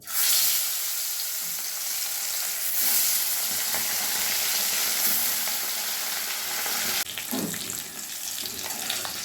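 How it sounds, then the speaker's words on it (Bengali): Bata fish frying in vegetable oil, turmeric and salt rubbed on, with a constant loud sizzle and crackle, one brief clatter near the end. "বাটা মাছগুলো ভেজে তুলে নিলাম।"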